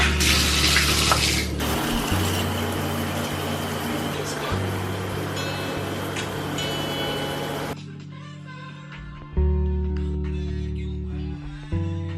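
Shower water runs in a steady broadband hiss beneath music for about eight seconds, then cuts off while the music carries on alone.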